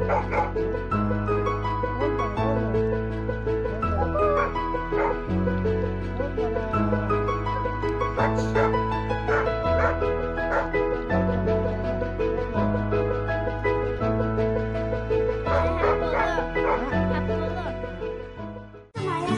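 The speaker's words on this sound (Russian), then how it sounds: "собака Ирма, она очень игривая" A playful four-month-old puppy barks and yips repeatedly in short bursts, mixed under loud, rhythmic background music.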